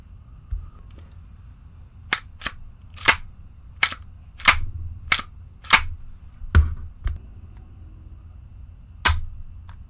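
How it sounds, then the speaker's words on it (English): Dry-fire trigger pulls on a Staccato STI 2011 double-stack 1911-style pistol, about a dozen sharp, close clicks spaced irregularly under a second apart against a quiet background. "Now, the trigger pull, you probably could hear that in the audio."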